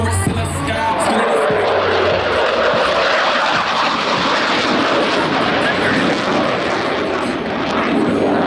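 Blue Angels jets roar over show center at an airshow, a loud sustained blast of engine noise that fills the sky, with crowd chatter faintly underneath.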